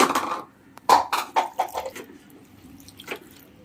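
Water is poured into a cooking pot for ripe papaya pachadi, heard as a few short splashing gushes and drips close by, with quiet pauses between them.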